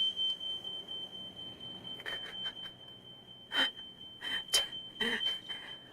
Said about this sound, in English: Sounds like the fire alarm is going off.